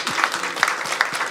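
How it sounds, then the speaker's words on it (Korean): Church congregation members clap together, a quick run of close, crisp handclaps in an even rhythm with no voices over them. "우리 박수 한번."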